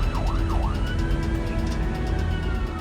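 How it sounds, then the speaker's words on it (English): An Australian ambulance siren wails in a rising and falling sweep, loud and close, over steady road and engine noise as the vehicle drives through traffic. "So we're just going to put the sirens on to make people move out of our way."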